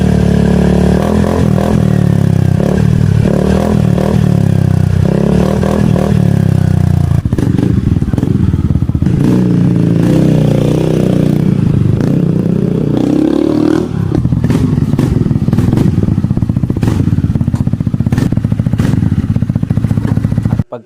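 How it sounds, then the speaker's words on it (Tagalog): A Yamaha X-Max 300 scooter fitted with an upgraded full-system muffler runs loud and close, with a throaty exhaust note. The engine revs repeatedly with sharp blips and surges, and clattery mechanical noise sits under the engine. "Kaya naman ikinabit agad natin para naman matesting, ma-soundcheck at matest drive natin yung motor"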